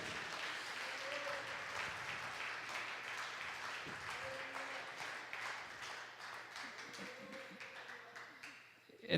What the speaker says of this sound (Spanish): Denle el aplauso al Señor porque sigue sanando y sigue salvando.